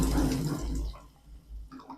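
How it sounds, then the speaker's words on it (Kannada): Water is poured into a cooking pot of fried ginger and lentils for bonda soup, a short, close splashing pour that tapers off within a couple of seconds. "ನೋಡ್ಕೊಂಡು ನೀರು ಹಾಕ್ಕೊಳ್ಳಿ."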